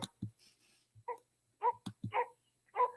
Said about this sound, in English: You've got a dog fight going on.